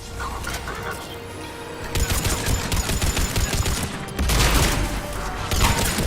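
Mass Effect 3 firefight during a heavy attack: dense automatic gunfire rattles in sustained bursts, loud and close, with a brief heavier crash partway through.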